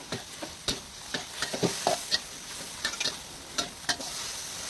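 Wide rice noodles for drunken noodles stir-fried over high heat in a Thai kitchen, a steady sizzle broken by sharp spatula scrapes and clacks against the pan at irregular intervals, close and fairly loud with no talking.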